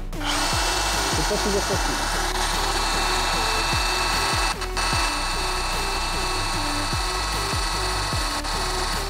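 Ryobi RSDS18X cordless hammer drill boring into a 3 mm square steel tube with cutting oil, a loud steady whine with rapid rhythmic hammering pulses, briefly dipping midway, while someone speaks French over it.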